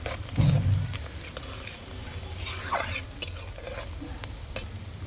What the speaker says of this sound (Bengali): পেঁয়াজ আমার বাদামি করে ভাজা হয়ে গেছে